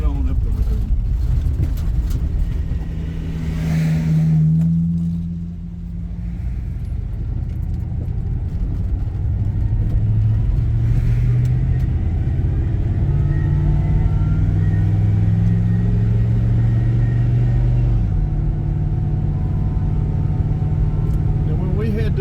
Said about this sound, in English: We're going to pull over and let this truck get by us.